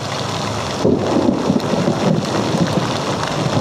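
Floodwater during heavy rain: a loud, steady, broadband rushing wash with pattering and gusty surges, heard close and continuous.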